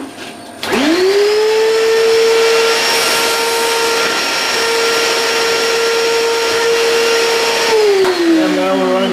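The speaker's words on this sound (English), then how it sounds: "Vacuum up the chips." A vacuum cleaner switches on with a sharp rise into a loud, steady whine that holds for about seven seconds, then winds down as the motor cuts off.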